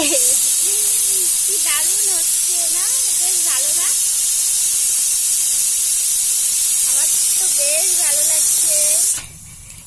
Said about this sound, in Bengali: চলো দেখো আমার সিটি উঠে গেছে